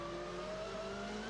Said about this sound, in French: quand on écoute les bruits du moteur, qu'au niveau de la motricité, on a du mal à passer les 300 chevaux à la accélération